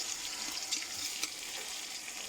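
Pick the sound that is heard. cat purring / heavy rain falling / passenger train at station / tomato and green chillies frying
tomato and green chillies frying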